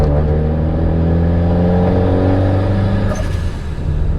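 A turbocharged CD5 Honda Accord engine revs and drones steadily while driving, its pitch climbing and shifting, close and loud with no talking.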